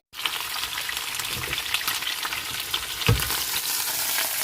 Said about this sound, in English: I'm just going to squish this bit down a bit so it gets brown.